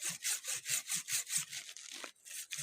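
A hand saw cuts through wood outdoors in a forest, with steady rhythmic back-and-forth strokes, about eight even passes close by, then a short break and a few more strokes.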